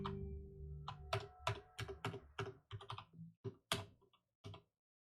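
Close, quiet typing on a mechanical keyboard with brown switches, a run of distinct irregular keystrokes and thocks over about five seconds, with a brief pause near the end.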